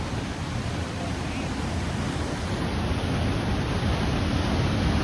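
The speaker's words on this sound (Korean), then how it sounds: "이렇게 좁은 협곡을 통해서 물이 막 급하게 내려가는 게 보입니다" Fast water rushes through a narrow canyon in Olympic National Park, a steady, loud, broadband roar with no breaks from start to finish.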